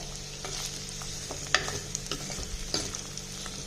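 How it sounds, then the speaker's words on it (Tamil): Pirandai (adamant creeper) sizzles as it is sautéed in oil in a pan over a medium flame, a steady close frying hiss broken by occasional scrapes and clinks of stirring, with no voices. "பொறுமையாக நல்லா வதக்குங்க. இந்த எண்ணெயிலேயே நல்லா வதங்கணும்."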